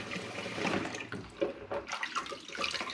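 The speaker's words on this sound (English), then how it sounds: "So I have the tap turned the wrong way, that's warm-ish." Warm water runs steadily from a kitchen tap into a sink for washing goose eggs, a continuous splashing flow with uneven bursts, close and alone.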